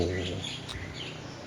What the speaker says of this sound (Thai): คล้องไปกับเสียงนกร้อง